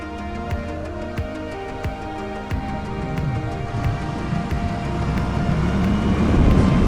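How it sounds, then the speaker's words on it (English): A Honda NC750X motorcycle being ridden gives off a steady, close engine drone whose pitch shifts and rises toward the end, with road rumble and no voices. "I'm currently riding the Honda NC750X."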